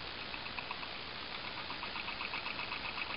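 A simple homemade electric motor on a test run hums steadily with a fast, even whirring buzz as it holds speed, close and continuous with no voices.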